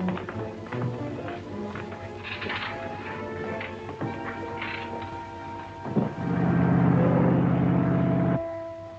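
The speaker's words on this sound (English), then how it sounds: "Stop the engine." A boat engine in a Sherlock Holmes audio drama starts after a spell of clattering and knocks, droning loudly as a low, steady hum for a couple of seconds before cutting off abruptly.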